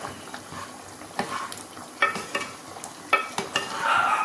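An eggplant and potato curry with a pinch of masala powder is stirred in a frying pan, a soft continuous sizzle broken by several scraping strokes of the spoon against the pan.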